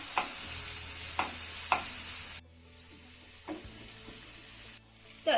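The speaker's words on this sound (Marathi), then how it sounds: "आता हा टोमॅटो देखील आपल्याला मौसूद होईपर्यंत चांगला परतून घ्यायचा आहे" Finely chopped tomato sizzles in a hot pan as it is sautéed and stirred, with steady frying hiss broken by several sharp scraping stirs and a brief quieter stretch midway.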